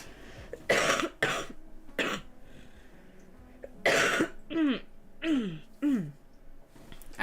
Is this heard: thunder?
no